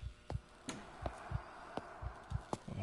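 Slow, steady heartbeat pulses in the horror game Maid of Sker, each a low thump, soft and regular, repeating about every 0.35 to 0.7 seconds over a faint hum, with no voices present.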